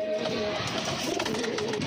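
Racing Giribaz pigeons coo softly in a loft, a low murmuring drone from several birds continuing steadily without talk.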